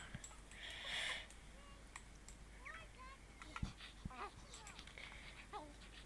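A dog in The Sims 4 whimpers and yips in short, thin whines with a few sniffs, fairly faint against light game ambience and brief background sounds.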